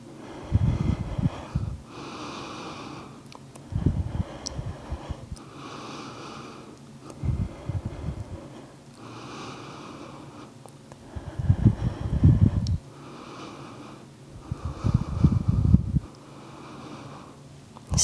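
Deep, audible breaths in and out during a prenatal yoga strength hold on the forearms, coming as slow, rhythmic breathy rushes every few seconds, close and fairly quiet, with no talking.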